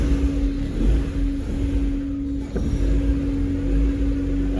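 A turbocharged Mazda Miata engine fitted with 1000cc injectors cranks and catches, settling into a steady idle hum with a faint whine, close by, with a brief stumble midway.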